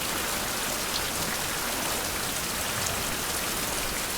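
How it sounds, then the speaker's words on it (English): Steady rain falls in an even, hissing wash of drops on surfaces, constant and moderately loud throughout, with no voices or other sounds. "right as it began to rain again"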